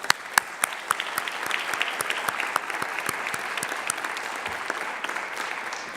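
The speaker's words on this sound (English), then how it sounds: "Please give them a round of applause" A Veterans Day event crowd gives student veterans a round of applause: dense, lively clapping from many hands, fairly loud and sustained for the full stretch, with some sharp individual claps near the start.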